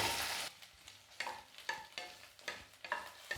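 Cut okra drops into hot oil in a kadai with a brief loud burst of sizzling, then settles into quiet frying punctuated by regular stirring scrapes and taps, close by.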